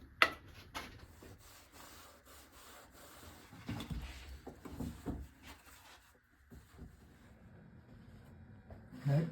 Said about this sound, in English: I'll do the final bit with a sanding block